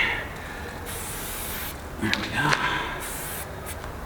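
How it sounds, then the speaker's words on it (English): A short hiss of graffiti spray paint bursts out midway, soft and steady, with a man's brief remark and faint rubbing noises around it. "Nice, soft, controllable spray."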